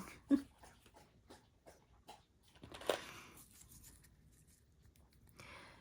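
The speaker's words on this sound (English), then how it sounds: "my dog, she's drinking in the background." Soft, rhythmic lapping of a dog drinking water, faint and close, with a few scattered clicks and quiet gaps.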